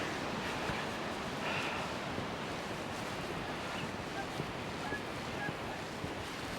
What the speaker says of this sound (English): This wind's a bit annoying.